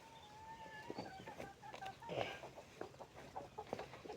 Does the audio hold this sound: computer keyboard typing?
no